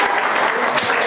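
Quiz participants clap together in a room, a loud, dense burst of applause lasting about a second.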